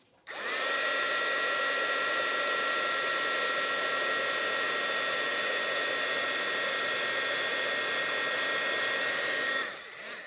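A heat gun blows hot air to melt embossing powder, a loud steady whooshing roar that starts abruptly and cuts off after about nine seconds.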